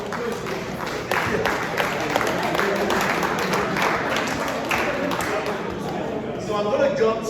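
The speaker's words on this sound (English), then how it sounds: "a round of applause" An audience at a golf tournament awards reception applauds the award winners, a steady wash of clapping from a crowd with talk running over it.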